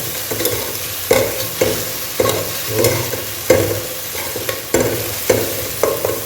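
A paste for kushka biryani fries in hot oil, sputtering and crackling loudly while a spoon scrapes and stirs it in a steady rhythm, up close with no voices.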